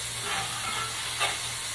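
Chicken livers fry in a pan for a New Orleans-style dirty rice, giving a steady close sizzle and hiss with a faint stir or scrape near the end, and no talking.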